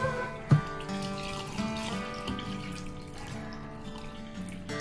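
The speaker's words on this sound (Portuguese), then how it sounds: "Olha, esse é o meu lavar de feijão." Cold tap water runs at a kitchen sink as beans are washed, a soft continuous trickle with a brief knock or clatter near the start, close by and with no voices.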